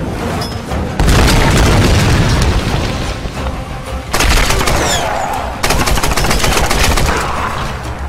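Grenade launcher fire and explosions in the Tomb Raider video game: heavy booms and rapid gunfire bursts arrive in three loud waves, each starting abruptly and ringing out, with crackling shots layered over deep blasts.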